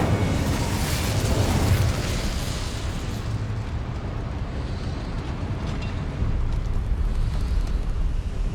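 Incendio fire spell cast in Hogwarts Legacy, a dense, roaring, explosive burst of flame that swells and rumbles continuously, loud and close, with no talking.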